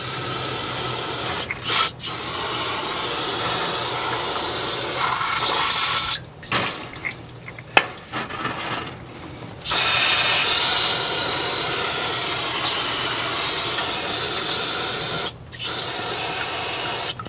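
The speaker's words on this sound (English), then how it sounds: "I like to take some brake parts cleaner and just spray around the oil filter" Steady aerosol brake parts cleaner hissing in long bursts around a Corvette's oil filter, close up, with brief pauses and a few clicks between sprays.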